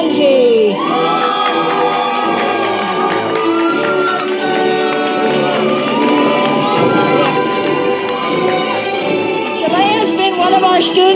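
A graduation audience screams, whoops and cheers loudly for a student being honored, a dense sustained roar of many voices with shrill high shouts rising throughout.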